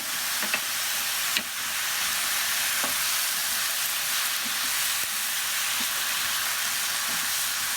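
Diced organic tomatoes go into a hot pan for a baked pasta, raising a steady, broad sizzle that fills the whole stretch, with a few faint clinks and stirring taps over the constant frying hiss.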